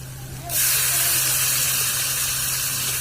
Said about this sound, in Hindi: इसमें हम हल्का सा पानी का छींटा लगाएंगे।